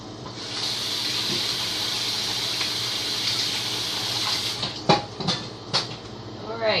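A kitchen tap runs in a steady hiss of water while a garlic press is rinsed, and then it is shut off. A few clattering knocks of the utensil against the sink follow, close and fairly loud.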